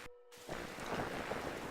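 Steady rain pours down in a night scene of the game Darkside Detective, a dense continuous hiss that begins after a brief silent gap and carries on evenly to the end.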